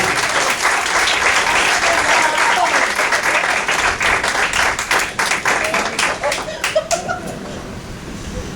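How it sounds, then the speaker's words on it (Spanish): A church congregation applauding the women of the church, loud sustained clapping from many hands filling the room, tapering off toward the end. "Las mujeres deberían darse un aplauso y los hombres deberían darle ese aplauso a las mujeres"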